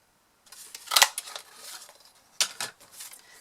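A paper craft punch snipping out a pencilled shape, giving two sharp close crunching cuts with softer rustling handling of paper in between, no voice.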